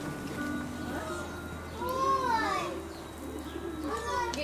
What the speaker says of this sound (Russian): Ой, голуби.